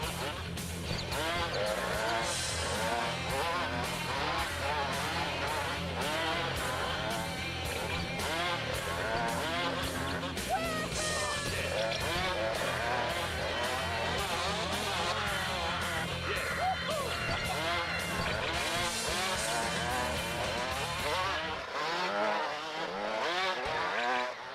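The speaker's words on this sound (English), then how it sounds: "Our engines are in the same stroke. Did you hear that?" Engines of several vehicles in a video game drone and rev continuously, a dense buzzing roar with pulsing rhythm that runs loud for over twenty seconds, with people talking over it before it drops away at the end.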